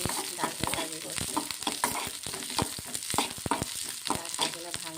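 Spices sizzle in hot oil in a wok, with onion, garlic, ginger and five-spice mix being stirred, giving a continuous close crackle and sizzle broken by rhythmic scraping strokes.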